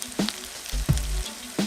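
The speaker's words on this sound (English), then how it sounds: "Here we have our salmon cakes that are cooking." Salmon croquettes frying in a pan, close sizzling and spitting hot oil with a few louder bursts and crackles over a short stretch, no talking.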